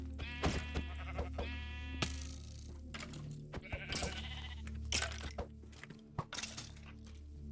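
Repeated sheep bleats in Minecraft, several close together, over a steady low hum and scattered thuds and game effects.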